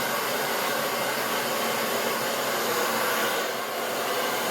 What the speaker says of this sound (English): First I'm going to dry it, power dry it at the root.